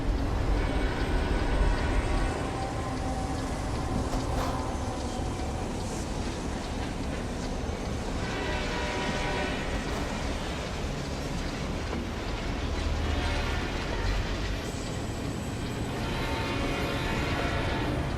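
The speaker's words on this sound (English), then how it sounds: "Train going by." A long train in American Truck Simulator rumbles past steadily with a continuous clattering roar and faint rhythmic clicks, holding at a moderate level throughout with no voices.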